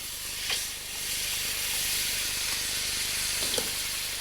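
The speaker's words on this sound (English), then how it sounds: "you start by frying the thick coconut cream." Thick coconut cream fries in a hot wok with a steady, bright sizzle and hiss. A few soft clinks are heard, and the sizzling runs continuously throughout at moderate loudness.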